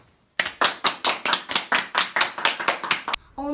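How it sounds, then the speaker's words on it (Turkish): Steady rhythmic clapping in tribute to health workers, roughly a dozen sharp, evenly spaced claps in quick succession, loud and close, with no talk over them. "Hepiniz ayakta alkışlanmaya değersiniz"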